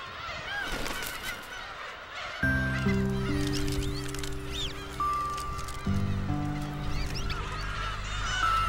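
Black-tailed gulls call loudly and harshly while fighting, overlapping honking cries that swell into a dense, continuous squabble close by.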